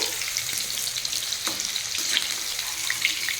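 Pieces of chicken for chilli chicken crackle in hot oil with a bright, steady sizzle and a few soft stirring knocks, close and continuous.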